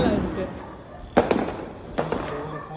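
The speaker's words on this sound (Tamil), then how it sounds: "இந்த வெடி நான் பார்த்ததே இல்ல" Diwali firecrackers pop in two separate bursts, each a sharp crack followed by quick crackling, heard outdoors amid a noisy background with people talking.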